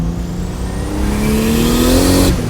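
A turbocharged 2JZ engine swapped into a BMW Z3 M Coupe pulls hard in second gear, its loud, steadily rising drone climbing in pitch for about two seconds before cutting off sharply near the end.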